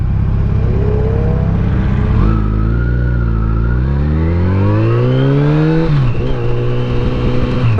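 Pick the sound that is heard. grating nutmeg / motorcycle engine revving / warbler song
motorcycle engine revving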